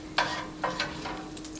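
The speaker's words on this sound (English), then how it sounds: "I'm going to use a slotted spoon to remove the bacon and onions into this bowl" A slotted spoon scrapes and lifts fried bacon and caramelized onions out of a greasy pan into a bowl. Several distinct scraping knocks come over a soft, continuous sizzle at close range.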